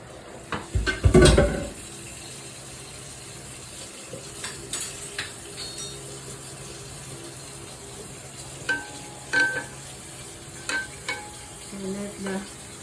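Broccoli sizzles as it is stir-fried in a hot pan, with a loud burst of frying as the florets hit the oil, then a steady low hiss broken by scattered clatters and stirring knocks.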